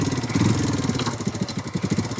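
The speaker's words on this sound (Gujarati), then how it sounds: "શેઠાજી બાઈક શીખે છે." A motorcycle ridden by a learner, its engine putting along with an uneven pulsing throb and slight revving, close and fairly loud, with no clear speech over it.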